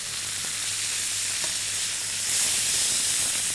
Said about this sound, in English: So just keep turning the pieces of meat so they're seared on all sides